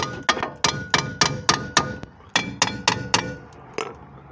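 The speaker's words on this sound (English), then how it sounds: "let me beat this with a hammer and see if it's loose" A hammer strikes a car brake part on a Honda Civic wagon during a rear disc conversion, about a dozen sharp metallic whacks in a fairly steady rhythm, close and alone.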